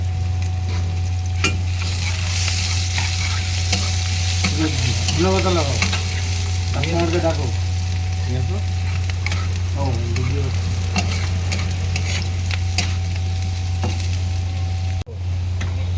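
Chopped green chillies stir-fried in a pan for Maggi noodles, with a steady loud sizzle and scraping stirs throughout, a hum underneath and a brief clunk near the end; no one talks.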